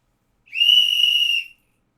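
A single loud, clear whistle blast sounds for about one second, steady in pitch, alone in silence.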